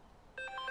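A cell phone rings partway through, a bright electronic ringtone of short repeating tones that starts suddenly after a quiet moment and carries on steadily and fairly close.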